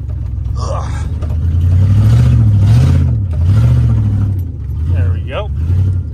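A Dodge car engine rumbles and revs up and down while mudding, a loud, close, low drone rising and falling, with a voice speaking over it.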